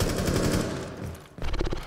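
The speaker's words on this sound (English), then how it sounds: "here you'd be able to hear the gunshots." Gunfire in a video game, a rapid burst of loud shots filling the first second, a brief lull, then another close, punchy volley of automatic fire.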